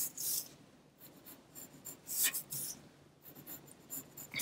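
A pencil scratches a zigzag line on paper in quick, separate strokes, close and crisp, with short pauses between the rasping bursts.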